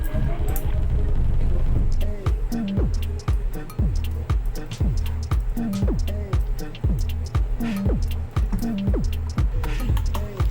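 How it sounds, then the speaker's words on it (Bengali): A spoon stirs chocolate pieces into warm milk in a pan while making chocolate oats barfi, giving a steady rhythm of wet squishing and dripping strokes, close and moderately loud, with no talk over it. "দিয়ে আমি এই চকলেটগুলোকে ওর মধ্যে নাড়তে থাকবো।"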